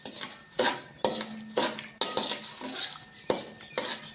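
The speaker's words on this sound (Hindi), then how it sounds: "अब जो हमने दाल का पाउडर बनाया है इसी घी में हम दोबारा डाल देंगे और इसको दोबारा हम इसकी अच्छे से भुनाई करेंगे घी के अंदर" A spoon scrapes and clinks against a pan while chana dal powder is stirred and roasted in ghee over a low flame, with repeated rhythmic metal scraping strokes up close and a faint sizzle underneath.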